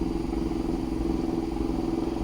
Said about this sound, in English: the 4-zone splitter switched to the next zone and it's going to prime the pump